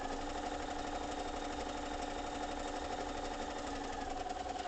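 A sewing machine stitches quilt fabric with a fast, even mechanical whir, continuous and fairly quiet.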